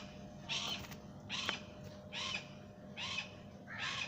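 Falcons at an aviary in the United Arab Emirates give five harsh, evenly spaced calls about every seven-tenths of a second, moderately close over a faint background hum.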